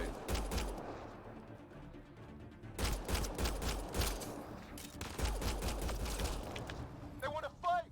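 Bursts of rapid gunfire from a Mass Effect Andromeda battle rattle in clustered volleys with brief pauses, loud and close, mixed with game voices and shouted dialogue.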